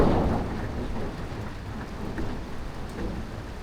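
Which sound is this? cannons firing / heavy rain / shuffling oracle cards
heavy rain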